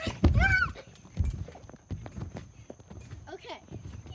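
Horse hooves clip-clop in a slow, uneven series of thuds during a ride, fairly close. A whinny-like pitched sound and bits of voices break in near the start and the end.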